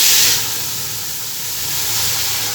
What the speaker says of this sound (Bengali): আমি এবার ডালটাকে আমি দিয়ে দেবো কড়াইয়ের মধ্যে